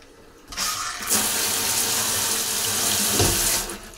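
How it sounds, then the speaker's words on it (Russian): A hotel bathroom shower is turned on and runs in a loud, steady gush of water close by, starting after a brief quiet moment and carrying on to the end. "Душ."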